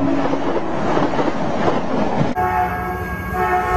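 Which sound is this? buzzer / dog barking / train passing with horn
train passing with horn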